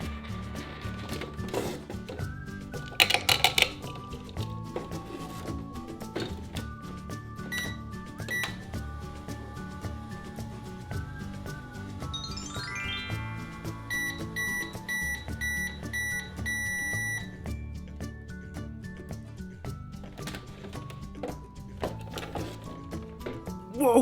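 A toy microwave runs with a handful of blue gumballs inside, giving electronic beeps, tones and a rising chime over a steady busy background, close and fairly quiet.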